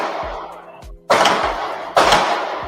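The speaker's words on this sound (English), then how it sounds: "Suddenly, gunshots." A live podcast is cut off by two sudden loud gunshot-like bangs, each a sharp burst followed by ringing noise, after a quieter stretch with low thumps.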